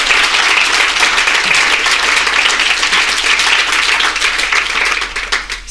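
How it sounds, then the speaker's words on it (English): An audience applauds for a writer at a stage event, a dense, steady round of clapping that stays loud for several seconds before thinning out into scattered claps at the end. "So, before we start, just another round of applause for Jónína, the writer."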